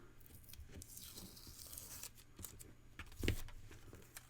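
A cut-out comic paste-up peels off a Magic the Gathering card with quiet, close papery tearing and crinkling, ending in a slightly louder rip.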